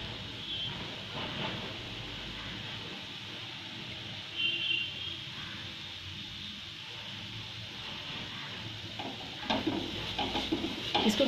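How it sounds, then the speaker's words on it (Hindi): Grated carrot roasting and being stirred in a pan, a soft continuous sizzle with scraping stirs and a few louder clatters near the end, with no talk. "ये मेरा गाजर भून रहा है, अभी थोड़ी सी और भूनूंगी"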